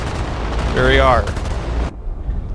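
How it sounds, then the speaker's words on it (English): B-17 bomber gunners fire machine guns at attacking German fighters in dim evening light, a loud sustained burst of gunfire with engine roar beneath, cutting off abruptly near the end. "The American gunners try to open up, but they don't know where they're even firing."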